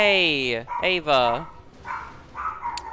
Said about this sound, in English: sorry about the dog. She just woke up.